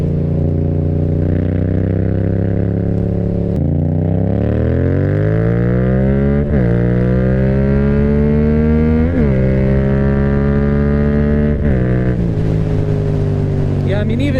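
A Yamaha XSR700 motorcycle with an M4 exhaust accelerates hard on a freeway. The loud engine note climbs through the gears, dropping sharply at each shift, with heavy wind rush and a rider's voice underneath.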